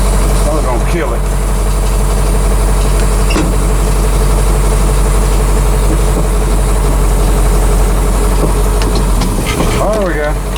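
A GMC 6000 truck starting up after years of sitting idles with a loud, close, deep rumble that holds steady throughout, while people talk faintly over it.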